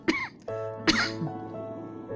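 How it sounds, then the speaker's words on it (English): Two harsh coughs spaced about a second apart, close and fairly loud, followed by a brief throaty rasp and quiet. "Still that damn cough."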